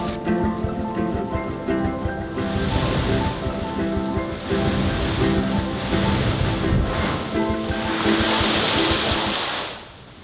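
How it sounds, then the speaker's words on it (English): Rushing ocean water surges and sprays through a blowhole on the Maui coast in a loud, continuous roar, swelling in bursts as waves push through, fading near the end. "It's like a geyser, but powered by waves."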